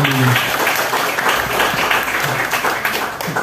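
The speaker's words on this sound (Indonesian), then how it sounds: "tepuk tangan buat anak-anak asrama ini" Loud, steady applause from an audience at a Hindu religious gathering in Bekasi, honoring the dormitory children, dense clapping throughout with faint voices mixed in.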